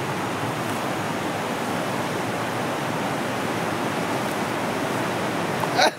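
A forest stream in the hills rushes past, a loud unbroken roar of flowing water that holds steady throughout, with a brief sharp knock right at the end.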